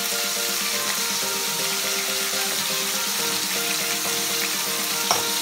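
Chopped onion with ginger-garlic paste sizzling and frying steadily in a pan, a loud continuous hiss with faint stirring clinks, no talking.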